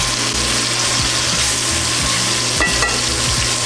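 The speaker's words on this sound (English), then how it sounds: "A little bit of sear on it. Oh yeah, a little bit of char." Elk carne asada sears hard in a hot pan, a steady loud sizzle with scraping and stirring knocks through it.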